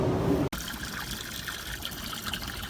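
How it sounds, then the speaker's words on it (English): Water from a Dometic 16k BTU marine air conditioner discharges out the side of a boat in a steady trickling, splashing stream, after a brief sharp cut at the start, with no talking. "there I have good water flow out of the side of the boat. That's pretty strong."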